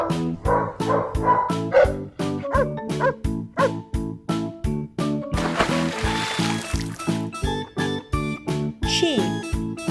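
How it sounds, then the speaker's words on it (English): A dog barks and yips in a steady run of short, loud, close barks with some whimpering tones, repeated across the whole stretch with no talking. "Dog."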